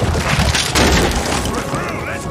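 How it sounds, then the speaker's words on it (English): A loud dynamite blast in the video game Red Dead Redemption 2 booms close and fills the whole clip, rumbling on as debris settles, with voices talking over it. "Cool guys, look at the explosion."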